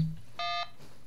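An incoming phone call in ARMA 3 sounds as one short electronic ringing tone, a crisp quarter-second beep standing alone against a quiet background.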